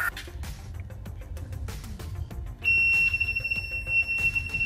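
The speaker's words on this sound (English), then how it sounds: "as soon as alcohol was detected, the system started the buzzer and gave the alert at the workplace" A workplace alcohol detector sets off its buzzer alarm, a sharp continuous high-pitched tone that starts partway through and holds steady over background clatter and noise.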